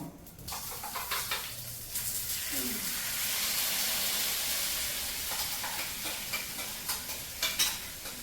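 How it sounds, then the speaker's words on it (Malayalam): Mustard seeds sizzle and crackle in hot oil in a frying pan, a steady loud hiss with scattered sharp pops and some stirring, in a home kitchen. "കടുക് നന്നായി പൊടണം"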